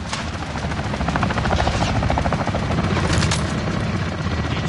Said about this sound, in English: Allied chopper gunner arriving now.